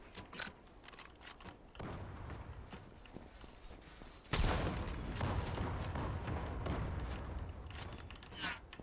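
Gunfire rings out in a Turkish online shooter game, with sharp cracking shots scattered through the clip. A louder burst of sustained fire and rumble begins about midway, with no talking over it.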